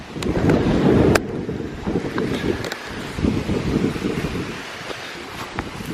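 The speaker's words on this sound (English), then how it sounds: "It's so windy." Strong wind roars and buffets the microphone, loudest at first then gusting unevenly, with faint clicks and knocks in the background.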